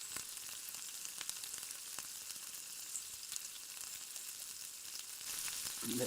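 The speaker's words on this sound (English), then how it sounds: "we're going to get some peppers in as well so they can cook down at the same time as the onions" Peppers and onions fry in a pan at a wild campsite, a soft, steady sizzle with faint crackles and occasional stirring clicks, growing a little louder toward the end.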